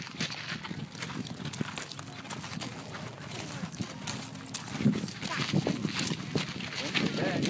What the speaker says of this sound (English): You riding a horse, Sarah?